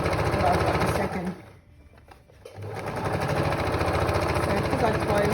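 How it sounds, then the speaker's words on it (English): A Janome sewing machine stitching close by with a loud, fast mechanical whir that slows and drops away for about a second mid-run, then speeds back up into steady stitching. "Noisy Janome. And then stitch along."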